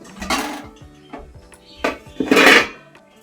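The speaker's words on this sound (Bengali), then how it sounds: "তো হাঁড়িটা এখানে গরম করতে বসালাম" A metal cooking pot is set down on a gas stove to heat, giving several loud, close clanks and clatters of metal on metal with short pauses between them.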